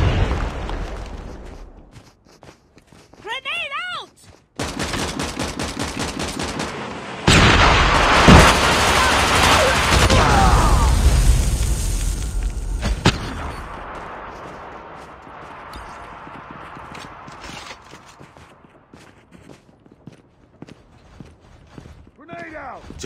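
Video game combat: a frag grenade explosion and bursts of gunfire, loud and heavy in the middle, with brief speech and quieter stretches before and after.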